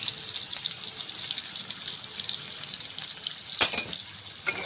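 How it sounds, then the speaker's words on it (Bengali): Potato pieces fry in hot oil in a wok with a steady hissing crackle, broken by a couple of brief louder bursts near the end. "কড়াইতে তেল দিয়ে দিয়েছি। তেল দিয়ে আলুটা ভেজে নেব খুব সুন্দর করে।"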